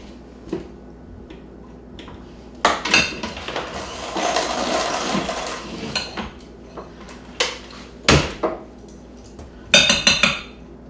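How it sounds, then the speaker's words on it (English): Someone scrapes the edge of a mixing bowl with a utensil, making a rough, sustained scraping sound broken up by sharp metallic clinks and taps against the bowl, close up and without speech. "Scrape the edge a little bit here."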